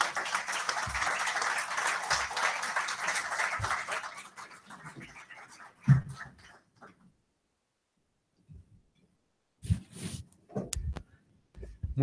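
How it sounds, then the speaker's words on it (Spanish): Lecture audience at a Tucson commemorative talk on Mexico's 1917 Constitution giving welcome applause for Professor Alberto Abad, a steady round of clapping that fades out after a few seconds, followed by scattered faint sounds. "les pido un aplauso de bienvenida para el profesor Alberto Abad"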